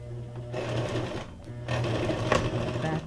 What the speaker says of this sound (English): And I want to do a straight stitch, kind of.